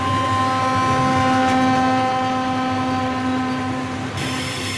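A freight train in Mexico rumbles steadily with a sustained tonal hum and drone, loud and continuous, with no voices.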